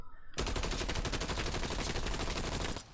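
A Call of Duty Cold War gun empties a full magazine in one unbroken, rapid automatic burst, loud and evenly paced for nearly three seconds before cutting off.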